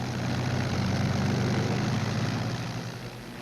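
WWII P-51 Mustang fighter planes take off, a loud sustained propeller engine roar that swells and then begins to fade, without speech.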